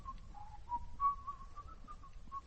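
A man whistles a tune alone, a thin, wavering melody of short, slurred notes at moderate volume.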